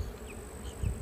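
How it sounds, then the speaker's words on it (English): Honeybees buzz faintly at close range while they are shaken from a nuc into a 10-frame hive box, with a soft thump near the end. "shake these bees off in this box"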